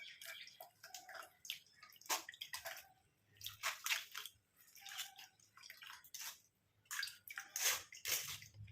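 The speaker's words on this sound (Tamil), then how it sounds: "இந்த மாதிரி ஃபில்டர் ஒன்று வச்சு நம்ம வடிச்சு எடுத்துக்கலாம்" Liquid from soaked banana stem fibre strained through a filter into a bowl, heard as close, quiet trickles, drips and wet squishes in irregular bursts with brief pauses, without talk.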